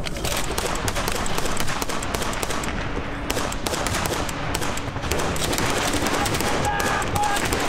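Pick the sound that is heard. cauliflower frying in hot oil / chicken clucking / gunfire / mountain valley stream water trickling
gunfire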